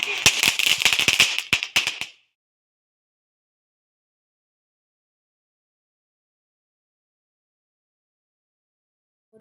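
Diwali firecrackers going off in a rapid, loud burst of sharp cracks and bangs lasting about two seconds, then abrupt silence.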